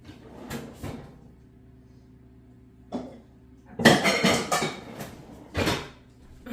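A bowl is taken out and handled in a home kitchen during butter making: several separate knocks and clatters of a cupboard and dishware, close and fairly loud, with quiet gaps between them.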